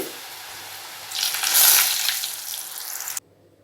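Drops of kara boondi batter falling into hot oil set off a bright, hissing sizzle that swells after a second, then tapers and cuts off abruptly near the end. The sound is close and loud, with no talking.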